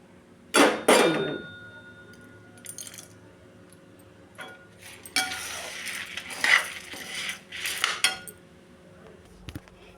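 Peppercorns tossed into a hot pan while dry-roasting spices for a toor dal spice powder: a few quick rattling scatters and scraping stirs against the metal, fairly soft, with quiet gaps between.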